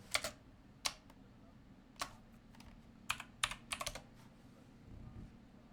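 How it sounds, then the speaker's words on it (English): Sparse keystrokes click on a computer keyboard in quiet, irregular bursts over a faint room hum. "What am I typing in?"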